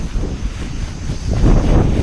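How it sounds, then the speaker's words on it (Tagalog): Strong wind ahead of heavy rain buffets the microphone in low, rumbling gusts that grow louder toward the end, with no voices. "pag ganitong lakas ng hangin mamaya lalakas yung ulan"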